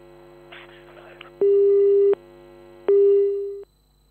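Telephone busy tone after a minister's call drops on a live Marathi TV news debate: two long steady beeps separated by a pause, following a moment of faint talk, loud and clear.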